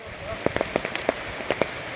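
Scattered drops patter and tick on a surface against a steady wash of sudden heavy rain, nearby and moderately loud, with no talking.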